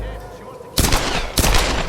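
Gunfire rings out in Tomb Raider: Definitive Edition: two loud, close bursts of rapid shots, each sustained and rattling, over a low rumbling game backdrop.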